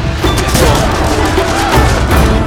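Dense, loud barrage of booming cannon blasts and crashes in Total War: Shogun 2, continuous and chaotic, with no clear gaps between impacts.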